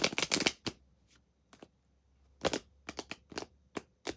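Quick riffling bursts of tarot cards being shuffled up close, two clusters of rapid flutters separated by a quiet pause with a few soft taps.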